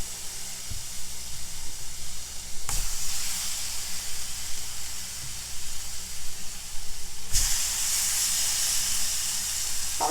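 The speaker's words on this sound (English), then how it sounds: "I'm going to hit it with these pork chops. Start letting them sear up." Pork loin chops searing in a hot pan give a steady, hissing sizzle that runs the whole time, with a couple of sharp bursts where the hiss suddenly gets louder and brighter.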